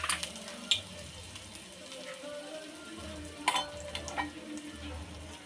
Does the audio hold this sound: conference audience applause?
no